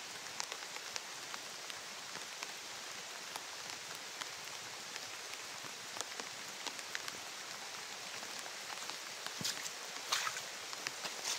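Heavy rain falls continuously outdoors, a dense even hiss with crisp individual drops and splashes standing out, steady and close without speech.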